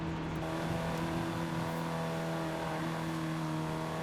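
Car engine held at steady high revs in Forza Horizon 5 during a volcano time attack, a continuous droning whine with sustained tones and faint tire noise, close and loud without talk.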